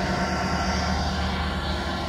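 A repaired grinding machine's motor running steadily with a constant droning whir and faint broadband hiss, continuous and fairly even throughout, with no talk.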